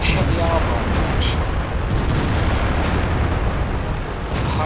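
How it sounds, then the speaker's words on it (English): Tank cannon fire in a video game against a heavily armoured target, a dense, continuous rumble of booming shots and bursts filling the clip at steady loudness with no clear gaps. "I'm sticking to firing on Pearson here."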